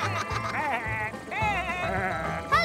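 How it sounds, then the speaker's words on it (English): Sheep bleat repeatedly in a field amid a cartoon soundtrack, with several wavering, nasal cries close and fairly loud over background music, a final bleat rising at the end. "Hello, sheep!"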